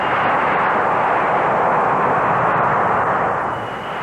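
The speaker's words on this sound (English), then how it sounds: "In the evening, the dragsters come out. Hang 4 tires on a jet engine," A jet-engine drag racer on four tires, seen at an Indianapolis drag strip in the evening, gives a steady, loud, broadband roar that holds without a break and eases only slightly near the end.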